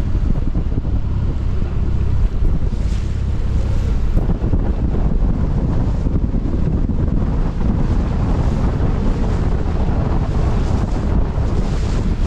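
Strong wind gusts roaring across the microphone while sailing in New Zealand's Marlborough Sounds, constant heavy buffeting with waves and water noise underneath, loud and unbroken.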